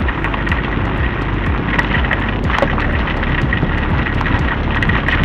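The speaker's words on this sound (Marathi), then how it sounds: "पाऊस इतका जोरात आहे की मला हाताला पाण्याचे फटके बसत आहेत." Heavy rain pours down on a motorcycle road trip on an Apache RTR 200 4V, heard as a loud, dense roar of rain and wind buffeting close to the microphone without a break.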